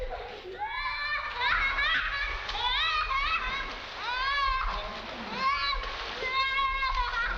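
Children splash while swimming, water noise mixed with lively chatter and excited high voices throughout.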